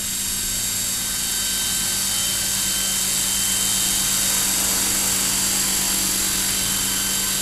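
Scale RC helicopter flown on a DJI Wookong-S controller hovering close by, a loud, steady rotor whine and buzz with high tonal hum that holds constant throughout.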